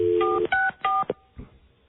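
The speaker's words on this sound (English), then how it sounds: "And you folks at home, you can dial Ken and Jeremy on the same 3-digit exchanges." A telephone keypad sounds a quick run of DTMF tones, several loud electronic beeps in close succession that end in a short fading tail.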